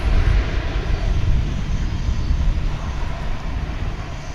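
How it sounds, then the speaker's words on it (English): An airliner on its takeoff roll down the runway at DFW International Airport, a loud, steady broadband jet roar with heavy low rumble that holds constant throughout, heard alone without voices. "we'll probably see that Tucson flight taking off at some point. No, it's rolling"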